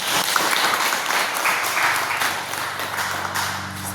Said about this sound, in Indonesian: berikan tepuk tangan untuk kau